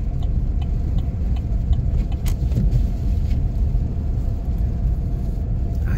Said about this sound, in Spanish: pero el carro se va por un lado.